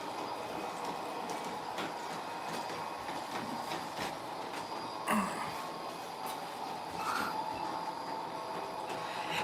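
HO and G gauge model trains run steadily on their layouts, a low continuous rumble with faint rhythmic clicking of wheels over track joints and no talking.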